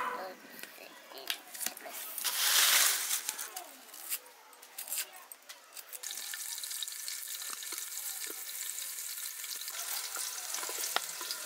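Green chillies and cumin hit hot mustard oil in a pan for dal khichdi: a sharp burst of sizzling, then a steady frying hiss with faint taps, partly under a speaking voice.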